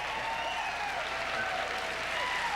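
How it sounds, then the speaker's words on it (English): A telethon studio audience applauds steadily, a dense wash of clapping that stays even and moderately distant, with faint voices mixed in. "they applauded more in New York than they did in Las Vegas"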